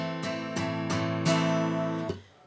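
Open acoustic guitar strumming of chords without palm muting, four or five even strokes that ring out full and sustained, close to the mic, before the sound is cut off and fades.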